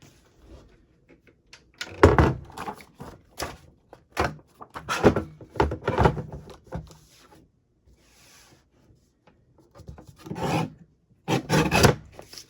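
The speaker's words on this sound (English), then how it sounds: "Let me take my trimmer. We're going to trim these up to 9 inches." A paper trimmer cuts craft papers down to 9 inches, giving a series of short raspy sliding strokes close by, with quiet gaps between the cuts and no talking.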